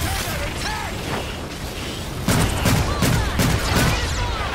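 Dense gunfire from the video game Evolve, a steady rattle that swells into louder, more rapid bursts about halfway through and keeps going to the end.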